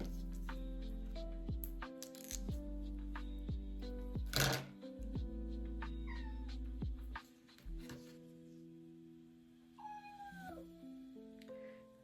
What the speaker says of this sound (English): I hope you are probably hearing my little cat down there.